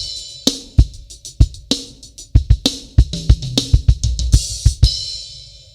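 Common starter drum chop on a full kit played with single strokes, quick runs of snare and tom hits with kick and cymbal accents, loud and close, ending on a ringing cymbal.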